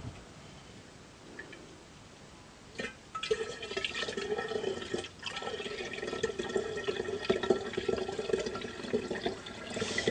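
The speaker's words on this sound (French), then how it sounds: "On tire le kéfir." Kefir is poured through a strainer into a container, first a quiet trickle, then a fuller liquid pour with splashing and dripping that continues steadily to the end, close and moderately loud, with no voices.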